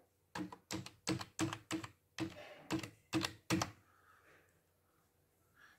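Nine firm keystrokes tapped on a computer keyboard at a steady pace, close by, then a faint room hush with no talking.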